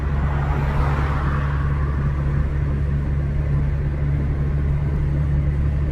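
A car cruising along a road at around 80, with a steady, loud low rumble and road noise running continuously under a constant hum.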